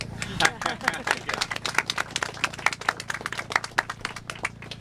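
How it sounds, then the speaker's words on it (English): A room of people clapping at a community event, distinct claps in a quick, uneven rhythm that stays moderately loud and close, with a steady hum underneath. "we have to clap"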